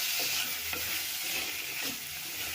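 Tomatoes and green chillies sautéed in a pan for a Malabar sardine curry, giving a steady loud sizzle with a few soft stirring scrapes and no talking.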